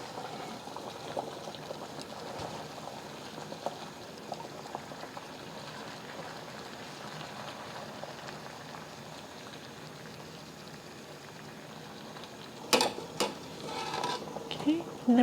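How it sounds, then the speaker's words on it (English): A pot of water for dumplings, fitted with a strainer, keeps a steady bubbling boil with a soft continuous hiss, and a few clinks of metal utensils come near the end. "bring another pot of water to boil"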